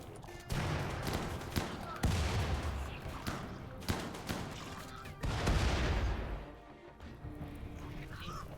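Incendiary shells firing and bursting in the video game RimWorld, a ragged run of heavy booms and crackling impacts in quick bursts, loud and dense, with a voice faintly underneath.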